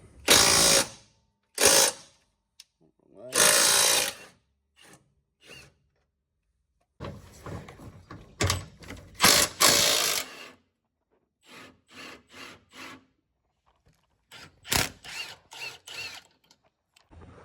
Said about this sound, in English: I've got the front bolts undone too